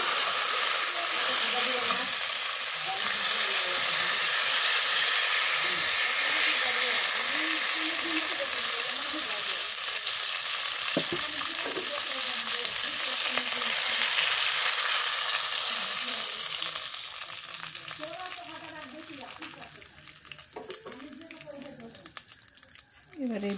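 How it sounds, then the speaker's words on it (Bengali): Rupchanda fish fries in hot oil in a village kitchen, giving a steady close sizzling hiss that thins out toward the end while people talk nearby. "এবারে এই দুটো ভাজলেই শেষ"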